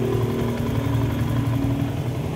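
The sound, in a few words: Yamaha Sniper 150 motorcycle engine idling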